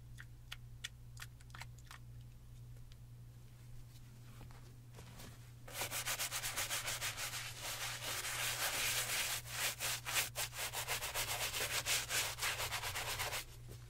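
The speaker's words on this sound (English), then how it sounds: "We're going to start off with the soft bristle brush." Soft bristle brush scrubbing soapy white Gucci sneakers, starting with a few scattered brisk taps, then settling into close, continuous rhythmic scrubbing strokes over a low steady hum.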